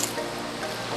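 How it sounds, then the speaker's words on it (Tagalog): River flowing among mountains, a brief, steady rush of water with soft bubbling and trickling detail, moderately loud and heard alone. "So ito po yung ilog."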